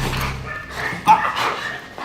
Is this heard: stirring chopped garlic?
no